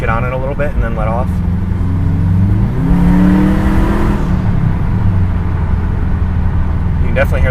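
Turbocharged 2005 Subaru 2.5GT engine fitted with a Mishimoto turbo inlet, idling steadily, then revving up in a rising sweep around the middle before settling back to idle. Brief voices are heard at the start and end.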